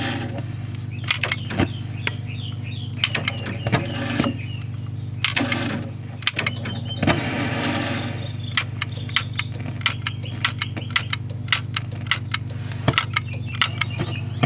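A 1961 Zenith Space Command TV remote clicking, sharp metallic clicks and taps in irregular clusters over a low steady hum, close by with no talking.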